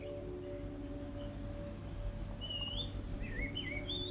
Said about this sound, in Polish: pewnie jakieś ptaszki śpiewają